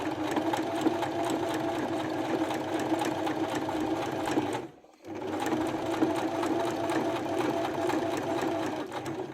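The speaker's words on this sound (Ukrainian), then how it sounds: "голка у нас обов'язково проколота, проколює тканину. Шиємо далі." A sewing machine stitches fabric for a small drawstring pouch, running in a steady fast rhythmic whir, pausing briefly with the needle down before carrying on at the same pace, close and loud.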